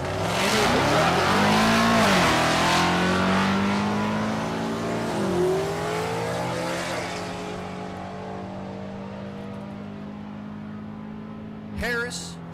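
A Ford F-150 and a Chevy Silverado drag race at Thunder Valley in Noble, Oklahoma, loud revving engines sweeping up through gears then fading into the distance, with a brief sharp burst near the end.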